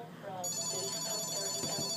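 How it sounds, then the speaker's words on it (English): A telephone rings during a radio talk show, its bright repeating ring starting after a brief moment and continuing steadily, with faint voices underneath. "So, sorry about all that ringing."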